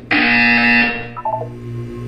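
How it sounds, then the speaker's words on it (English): A loud, harsh electronic buzzer in Portal 2 blares for nearly a second, then fades out with a brief echoing tail. "Hear the buzzer. Look up at the ceiling."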